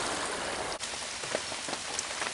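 Heavy rain pours steadily in the open on a wet New Year's Eve, a dense continuous hiss of drops hitting surfaces, close and unbroken, with no voices.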